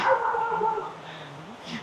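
A dog near a waterfall trail on a farm and fruit-tree walk gives a short, tonal bark or whining yelp, brief and close, against a steady background wash.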